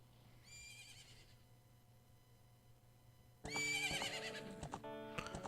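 A horse in the Ocarina of Time video game at Lon Lon Ranch whinnies twice, a faint neigh first and then a louder, fuller call with clip-clop hoofbeats and game sounds following.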